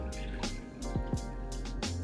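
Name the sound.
water dripping from squeezed rasmalai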